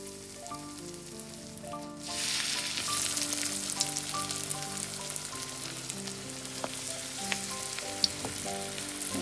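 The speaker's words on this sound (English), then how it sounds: "I'm going to fry this on medium heat, so this way it's not going to be burning" Mushrooms fry in oil on medium heat for a vegan chik parmesan, the pan bursting into a steady, close crackling sizzle about two seconds in that keeps going to the end, with small pops and stirring clicks.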